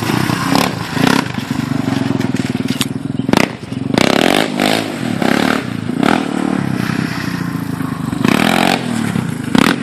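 A Raptor 350cc quad engine revs hard in the woods, loud and close, with repeated throttle blips and rough, crackling exhaust bursts over a steady motorcycle-like drone.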